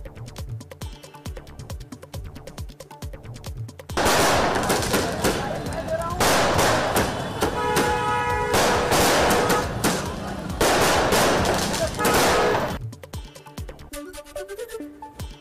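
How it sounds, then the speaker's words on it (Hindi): Firecrackers burst in a long, dense crackling barrage as supporters celebrate a political appointment, loud and continuous for several seconds, with quieter music before and after. "पटाखे जलाकर जताई खुशी।"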